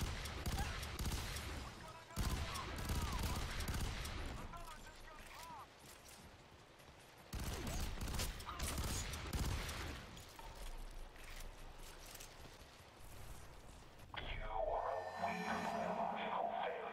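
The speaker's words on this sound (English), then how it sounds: "Stop shooting me!" Gunfire from the shooter game F.E.A.R. bursts in repeated loud volleys, dense and close, through most of the stretch, broken by brief lulls and a shift to a mechanical, radio-like tail near the end.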